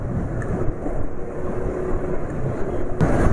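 An old motorcycle engine running on Mesran oil, idling smoothly with a steady low rumble close by, a sharper burst near the end.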